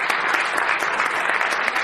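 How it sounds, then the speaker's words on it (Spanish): An audience applauds after a talk with Dr. Michael Salla, a dense, steady wash of clapping that is close and fairly loud. "Un nuevo aplauso para los dos"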